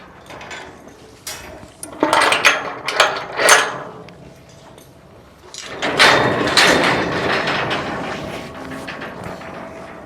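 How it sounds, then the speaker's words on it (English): A horse trailer gate being opened, with a young colt loose inside: metallic latch and hinge clatter in several short bursts, then a longer rattling, sliding scrape, close and fairly loud. "I'm gonna go ahead and open the gate and bring him on out."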